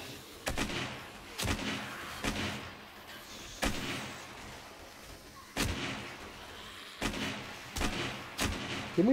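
Gunfire with armour-piercing rounds in 7 Days to Die (Darkness Falls), heard as a string of single heavy shots at an irregular pace, each one booming and then fading, with no talking in between.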